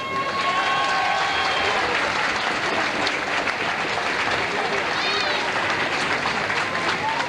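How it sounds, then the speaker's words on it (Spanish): Crowd at a 1991 Carnival playback show gives loud applause for the Carnival committee, a continuous roar of clapping and cheering with whistles and voices rising through it. "També voldria demanar un aplaudiment molt fort per la comissió de Carnaval"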